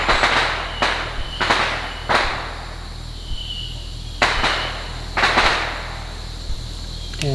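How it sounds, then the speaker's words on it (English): Fourth of July fireworks popping in the background, a series of sharp distant bangs spaced irregularly over steady insect and ambient noise, with no talk. "you're probably going to hear some fireworks in the background because it is 4th of July"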